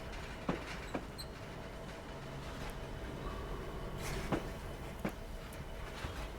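A GP60 locomotive in Train Simulator 2019 coasts to a stop: a low, quiet rolling rumble with a few sharp clicks and clanks of wheels and couplings scattered through it.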